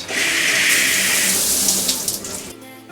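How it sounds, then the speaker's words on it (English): Water jets run in a cruise ship cabin bathroom aboard Celebrity Eclipse, a loud close gushing spray that holds steady before trailing off near the end. "All I want to see is that the water works, and you can see that those are the jets."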